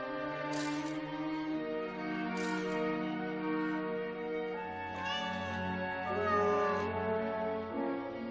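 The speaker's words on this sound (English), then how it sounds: "What is that? A cat at the end of its nine lives." A cat in a Batman video game meows several times in drawn-out, wavering cries over a steady tonal game background.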